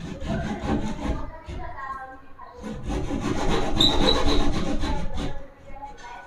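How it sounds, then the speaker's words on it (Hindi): A hand saw blade cuts through a double-layer POP false ceiling sheet, giving steady rasping strokes that run continuously and grow louder midway, close and without talk. "पहले पीओपी को कटिंग करने वाले हैं। एक आरी ब्लेड लेंगे"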